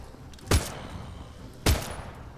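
Two separate loud gunshots about a second apart in the survival game The Front, each a sharp close crack with a short low thump, over quiet background noise.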